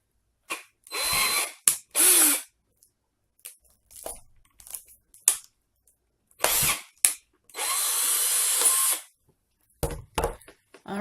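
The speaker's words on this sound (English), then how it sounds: "all of those are drilled out" Power drill boring holes in a hiking oven, heard as short close whirring bursts with one longer steady run, separated by silences and small clicks of handling.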